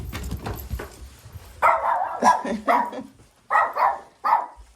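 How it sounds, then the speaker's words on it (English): A house dog barks repeatedly indoors, a string of sharp, loud barks in quick bursts, following a stretch of rustling and footsteps. "I got my dog tour guides taking me around."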